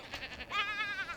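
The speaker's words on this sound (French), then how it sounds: "Donc je vous montre un peu les mini-chèvres que j'ai" Mini goats on a ranch in The Sims 4 give a short, close, wavering bleat preceded by a few soft pulses, with no talk.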